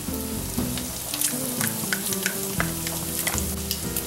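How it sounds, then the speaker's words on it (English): Bacon and garlic fry in a pan over medium heat, a steady close crackling sizzle with a few brief scrapes and knocks, running continuously for the whole stretch with no voices. "we're going to add our bacon to the pan, and we're going to fry this over a medium heat until it's nicely browned"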